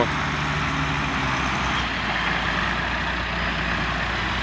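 Farm vehicles and trucks rumble at a corn silage pile, one pulling away as another arrives, with a steady low engine drone and idling throughout, moderately close and with no talk.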